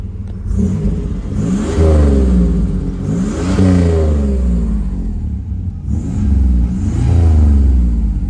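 A 1989 Pontiac Turbo Trans Am engine revs up loudly and close, rising in several sweeping climbs and dropping back to a rumbling idle between them, with no talking.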